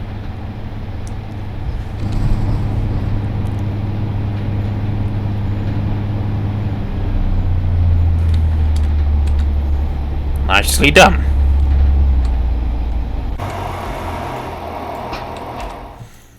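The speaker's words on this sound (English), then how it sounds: "we're just going to listen to the sound as the engine goes to second stage from the interior" Class 142 diesel train engine in Train Simulator Classic, heard from the interior, droning low and steady as it rises to second stage, its pitch stepping up partway through, with a brief voice and a sharp clatter near the end.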